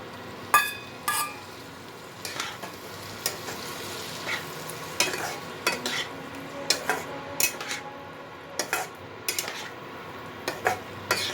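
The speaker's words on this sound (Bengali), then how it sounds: "ধনে পাতাটা আমার ভাজা হয়ে গেছে, এর মধ্যে আমি এই ভেজে রাখা আলুটা দিয়ে দেবো।" Fried potatoes stirred into fried coriander leaves and garlic for dhaniya aloo, a spatula scraping and clinking against the pan in irregular bursts over a soft, steady sizzle, close and alone without talk.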